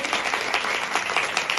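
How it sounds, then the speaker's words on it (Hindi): Loud, steady applause and clapping from an audience of women at a Hindu kirtan devotional gathering, a dense continuous patter of many hands filling the whole moment. "एक बार सभी बहनें जोर से ताली बजाएंगे"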